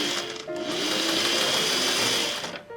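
Sewing machine running steadily while stitching a zipper in place along the stitch line, a close, continuous motor whir with rapid needle rhythm that starts, holds for a couple of seconds, then stops.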